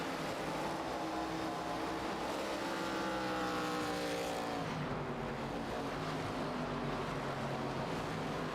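Stock cars racing side by side at Bristol Motor Speedway in a racing game, a steady loud engine drone with shifting pitch as the cars pass, continuous and without talk.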